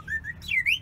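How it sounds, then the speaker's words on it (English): A handheld bird caller whistle makes a short, close, two-part call: a steady warble followed by a bending, rising chirp, clear over a faint low hum. "And a bird caller."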